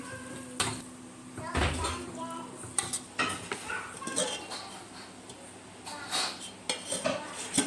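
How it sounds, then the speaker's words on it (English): Anchovies being stirred into cooked sambal in a pan, with irregular metallic scrapes and clinks of a utensil against the cookware, fairly quiet and close. "Now we add in the anchovies and stir to mix it all up"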